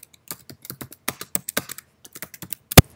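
Keys clatter on a computer keyboard as a name is typed into a flow action field, a quick irregular run of close taps ending in one sharper, louder keystroke.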